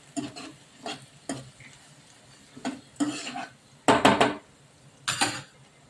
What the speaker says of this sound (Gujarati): એક ટમેટું એડ કરી દઈશું ધીરા ગેસ ઉપર આપણે આને પાકવા દેશું